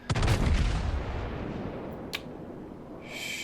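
A German Gneisenau battleship fires a main-gun salvo in World of Warships, a loud close boom with rolling thunder that fades over about two seconds, followed by a short sharp crack and a faint hiss near the end.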